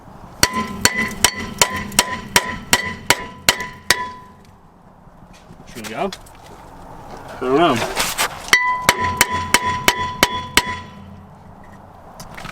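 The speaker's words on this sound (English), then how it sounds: "now I'm gonna have to hit the rotor with a hammer because this rotor is seized on there" Sharp metallic hammer blows ring out in rapid series on a seized brake rotor of a Ford Crown Victoria, pause for brief talk, then resume in a steady burst of clanging strikes on metal.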